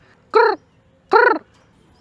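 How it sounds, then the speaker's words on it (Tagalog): A crow caws twice in a garden, loud and close, each harsh call about a quarter second long with a pause between, against a quiet background. "Uy, meron mga dito, mga ibon, no?"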